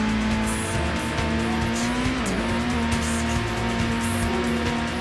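A Subaru WRX rally car in a racing video game howls with a loud, sustained engine tone as its tires squeal and skid through a slide, the pitch dipping briefly midway before holding steady.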